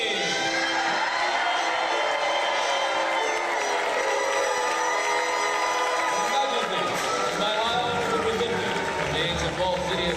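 A large crowd at a staged knights' tournament show roars and cheers continuously, loud and sustained with whoops and shouts, while an announcer's voice carries over the din.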